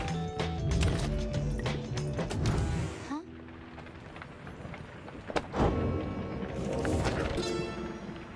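A titan mare in the Pyre video game, with clattering hoof beats and a whinny amid crashing, rumbling game effects and music, loud and busy with a sharp impact midway.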